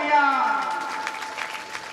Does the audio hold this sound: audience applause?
yes